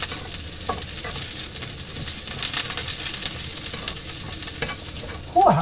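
Garlic sizzles in a pan over lowered heat, a bright, constant frying hiss with soft scraping stirs mixed in, close and steady, then a brief louder stir at the end.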